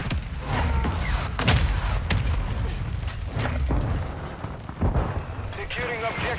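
Heavy booms and explosive blasts from a mortar strike land in Call of Duty: Modern Warfare II on the Shipment map. Several loud impacts rumble under continuous gunfire and battle noise, with game voice callouts over the top.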